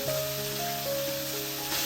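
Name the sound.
chopped ridge gourd sizzling as it is added to hot tempering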